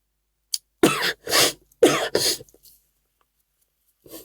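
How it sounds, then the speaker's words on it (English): A person coughs several times in quick, harsh bursts, then falls quiet before one last short cough. "I've got a little bit of a cough"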